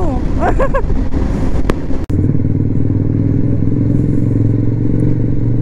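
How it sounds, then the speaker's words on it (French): A motorcycle engine idles and revs on an outing near a tunnel, a loud, steady low rumble that runs throughout after a brief clatter and a higher rising whine early on. "Oh, j'adore le bruit de sa moto."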